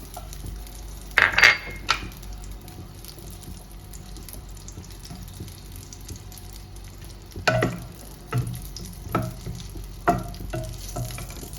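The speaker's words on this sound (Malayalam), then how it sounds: "ഇപ്പം നമ്മൾ ഇലയടയ്ക്ക് ആദ്യമായിട്ട് നെയ്യാണ് ഇത് നമ്മുടെ പാനിൽ ഇടുന്നത്" Two spoons of ghee melting in a pan for jackfruit ilayada, a soft steady sizzle with scattered louder clinks and stirring scrapes from utensils against the pan.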